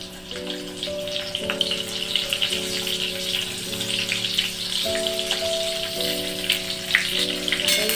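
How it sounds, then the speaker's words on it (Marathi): Stuffed brinjals frying in oil with garlic in a pan, a continuous close crackling sizzle with popping spatters, while a steady background hum drones underneath. "सगळी तेलामध्ये फ्राय करतो चारी साईडने ती थोडी फ्राय करून घेऊया"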